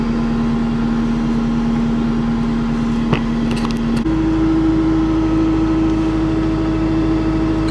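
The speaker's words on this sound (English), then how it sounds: "So we've also just started the skid steer" A CAT 289D3 skid steer's engine runs steadily just after starting on a cold day, a continuous close-up drone with a brief clank and a slight rise in pitch and level about halfway through, with nobody speaking.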